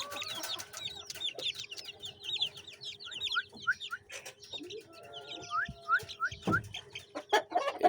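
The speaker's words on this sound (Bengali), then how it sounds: "এই আমাদের মুরগি, কাটাওয়ালা মুরগি, একদম মুরগের মতো" Home-bred aseel chickens and their chicks: repeated high chick peeps and soft hen clucks scattered across the stretch, close and fairly quiet, with no talk.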